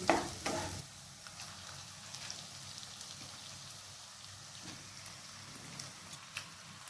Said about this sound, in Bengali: গ্যাসের ফ্লেমটাকে লো আঁচে রেখে ম্যারিনেট করে রাখা চিকেনের পিসগুলো দিয়ে দিচ্ছি।